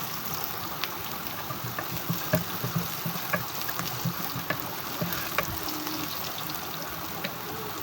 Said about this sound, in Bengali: এবার এই মিশ্রণটাকে একটু ভালোভাবে ভেজে নিব।